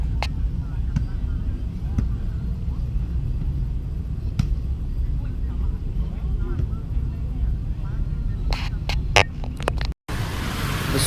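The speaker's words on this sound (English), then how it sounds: "The streets of Phnom Penh" Street traffic rumbles through Phnom Penh, Cambodia, with a continuous low engine drone from passing vehicles and a few sharp clicks near the end.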